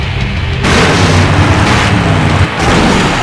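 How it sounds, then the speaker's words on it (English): A loud, sustained explosion roars in the adventure game Full Throttle, a dense rumbling blast that fills the whole stretch with a brief dip before surging again. "Now that's an explosion, ladies and gentlemen."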